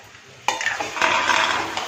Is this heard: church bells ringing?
no